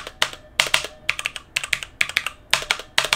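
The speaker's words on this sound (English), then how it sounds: "pay attention to that spacebar and that sound test" A MOTOSPEED CK62 60% mechanical keyboard is typed on, each key and spacebar press producing crisp, clacky clicks in quick bursts with short pauses between, close and isolated.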